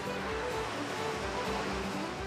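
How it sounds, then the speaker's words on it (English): Ocean waves at Giant's Causeway, Ireland, around sunrise: a steady, dense roar of surf with no distinct breaks, heard from close by. "Man, these waves are pretty incredible."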